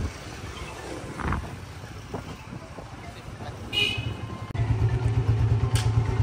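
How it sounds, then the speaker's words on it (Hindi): A motorcycle engine runs close by on arrival at a small zoo lawn, a steady low rumble that grows louder and more constant in the second half, with brief higher tones over it. "मोटरसाइकिल खड़ी कर दे"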